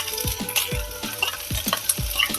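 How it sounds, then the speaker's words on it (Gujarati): Ginger and green chili paste fries in hot oil as tempering for spiced okra, a close sizzle broken by regular spoon strokes scraping the pan roughly every half second. "હવે આપણે આદુ મરચાંની પેસ્ટ નાખશું"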